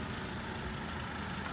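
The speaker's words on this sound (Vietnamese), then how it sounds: "Đây em đang nổ máy chiếc xe này" A 2006 Honda Civic 2.0 engine idles right after starting, a steady, even hum with broadband hiss and no other sounds, running continuously at close range.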